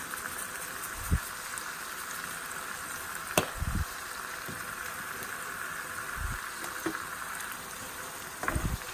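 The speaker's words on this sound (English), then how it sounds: "So we are going to just be frying this" Steady close sizzling hiss of hot peppers frying in hot oil, broken by a few soft thuds and clatters.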